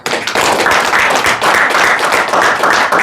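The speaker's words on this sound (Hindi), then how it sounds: "मैं कहूँगी अपने आप को थोड़ा बहुत तालियों से अप्रिशिएट करिए" Loud, close audience applause at a school event on Sadbhavana Diwas, a crowd of hands clapping in a dense, sustained burst that starts abruptly and holds strong with brief dips.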